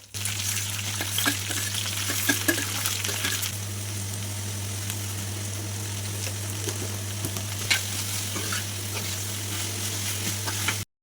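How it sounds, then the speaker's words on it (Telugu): Spices tempering in hot oil for an okra fry in a village kitchen, a steady close sizzle with occasional crackles and clinks over a constant low hum, no talking. "బెండకాయ ఫ్రై కోసం అయితే అది కూడా తాళం పెట్టేస్తున్నాను"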